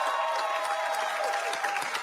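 Applause from a crowd at a political event, a dense, steady wash of many hands clapping for about two seconds with no clear gaps.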